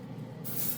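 A Gaahleri Mobius TG trigger airbrush begins spraying, its soft airy hiss switching on abruptly halfway through over a low background hum, close and fairly quiet.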